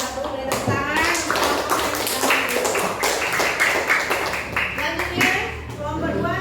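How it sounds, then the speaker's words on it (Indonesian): A classroom group of students claps for group 1, a dense, steady round of applause lasting several seconds, with voices audible underneath. "Kelompok 1 beri tepuk tangan."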